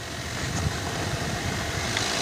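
A military drone's engine runs during a preflight check, a steady, dense mechanical drone with constant broadband roar and no pauses, close and loud throughout, with no talk over it.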